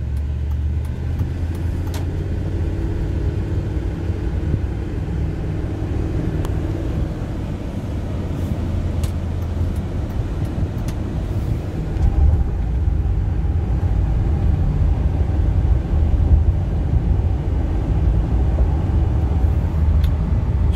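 A 2008 Dodge Ram 1500 pickup drives along with a steady, loud low engine drone and road rumble inside the cab, rising slightly as it shifts gears partway through, with no talking.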